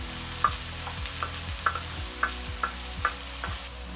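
Two medium onions fry on a thick iron tawa for street-style keema, a soft sizzle punctuated by about eight rhythmic scraping strokes of a spatula, close and fairly loud.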